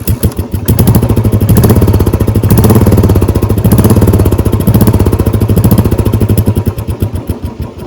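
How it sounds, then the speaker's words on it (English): A motorcycle with a pea shooter exhaust runs loud and close, its rapid, even pulsing firing beat rising and falling as the throttle is blipped and revved over several seconds. "now let's measure the sound of our pea shooter exhaust"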